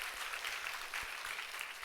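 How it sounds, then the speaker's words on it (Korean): A congregation claps during a lecture at a Korean church retreat. The applause is steady and dense, filling the room evenly with no voices over it. "박수 한번 합시다"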